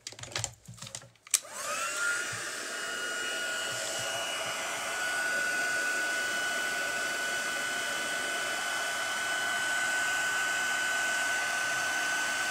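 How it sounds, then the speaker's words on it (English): Heat gun blowing steadily to melt silver embossing powder on dark cardstock for a handmade card, a loud continuous airy roar with a faint high whine, starting after a few brief clicks and handling noises and holding unbroken to the end. "So I'll bring in my heat gun again."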